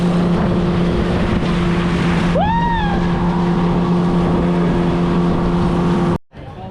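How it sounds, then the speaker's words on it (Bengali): A motorboat on a short resort boat ride hums steadily and loudly with strong wind buffeting the microphone, a brief rising whistle-like tone in the middle, until the sound cuts off abruptly near the end. "সো ফাইনালি বোট রাইড শেষ"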